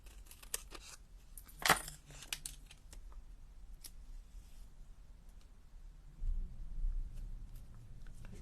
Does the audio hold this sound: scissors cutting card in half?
yes